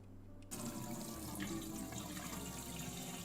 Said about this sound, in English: Equip bottle and pour into the vat.